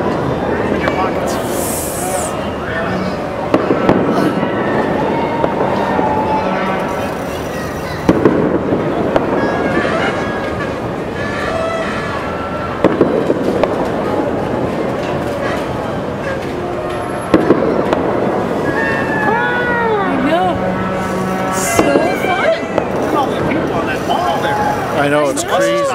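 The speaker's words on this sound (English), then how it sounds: "Fireworks!" Fireworks bursting outdoors at night, loud repeated explosions and crackling that recur every few seconds over half a minute, with people chatting and shouting nearby throughout.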